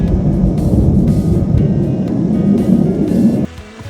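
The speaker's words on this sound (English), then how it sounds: "we're getting a little fly through in the gorge. Some jets. They are cranking through here." Jets passing through Linville Gorge in a loud, continuous low roar rumbling overhead, then dropping off sharply near the end.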